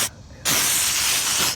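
A garden sprayer mists soapy water onto squash bugs in the evening, giving a close, loud, steady hiss that starts with a brief burst, pauses, then runs continuously for over a second.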